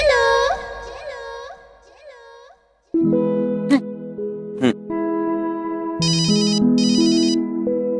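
A phone call to Shikha rings out as a melodic ringtone, first a sweeping tune, then a louder sustained chiming pattern with repeated bright tones, close and clear with no talk.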